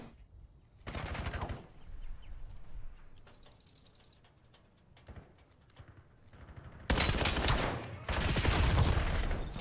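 Rapid bursts of automatic gunfire in a competitive first-person shooter match, a short burst early, then long loud sustained sprays near the end, with quieter game ambience in between.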